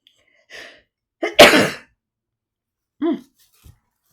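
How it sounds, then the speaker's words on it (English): A single sharp human sneeze bursts out after a short in-breath, close and loud, with softer breathy sounds before and after in a quiet room. "I'm going to sneeze again"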